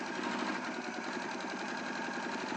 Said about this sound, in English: I'm just completing my second line of stitching